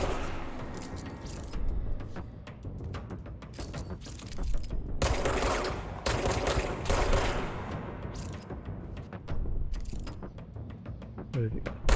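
Gunfire in the action game Control comes as irregular bursts of shots mixed with clanking, mechanical game effects, moderately loud and continuing throughout the clip.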